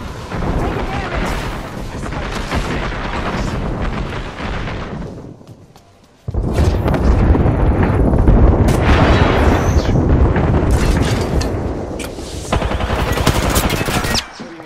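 Heavy gunfire in Apex Legends rattles in loud, close automatic bursts with explosive booms, pausing briefly before resuming with intense fire, while voices talk over the action.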